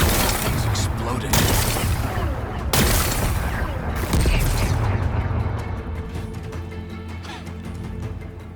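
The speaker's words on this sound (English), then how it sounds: "Gotta blast away some rocks, so I can expose the power cell. It's working! It's exploding." Rock-blasting explosions in Horizon Forbidden West: loud, dense rolling booms and rapid blasts follow one another for several seconds, then fade into rumbling debris and a quieter tail.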